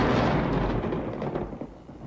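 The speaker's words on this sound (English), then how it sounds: "So let's put in some thunder for the Chief Joseph scene." Deep thunder rumble mixed into a digital audio track for a Chief Joseph scene in EPCOT's The American Adventure, a loud continuous roll that slowly fades over two seconds with no voices.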